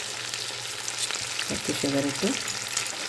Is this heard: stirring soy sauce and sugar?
yes